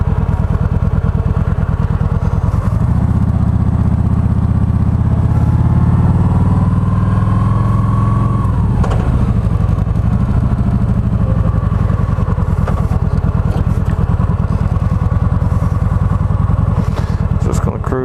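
Harley motorcycles rumble loud and close at a night ride gathering, a steady low engine drone lasting throughout with a rising rev partway through, constant with no pauses.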